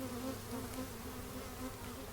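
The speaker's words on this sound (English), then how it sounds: "There's quite a few bees in the hive itself." Honey bees drone steadily at an opened hive during an inspection, with smoke being applied. The buzzing is a close, continuous hum that holds even throughout, with no voices.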